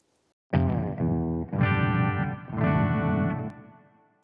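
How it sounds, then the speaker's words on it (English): An electric guitar plays through a Boss Octaver effect on a Boss PX-1 Plugout FX unit, giving thick, octave-doubled notes in a few sustained phrases that decay at the end. "This is the Octaver."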